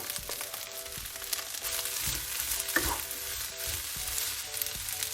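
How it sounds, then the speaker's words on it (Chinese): Carrot and green pepper shreds are stir-fried with curry chicken fried rice in a hot wok, giving a steady, close sizzle with scraping stir strokes and occasional crackles and no talking. "翻炒上1分钟，炒到胡萝卜丝和青椒丝断生以后"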